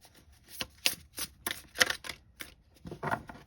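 Oracle deck cards are laid out on a surface, making a series of quick, close, soft slaps and flicks at an uneven rhythm, with brief pauses between them.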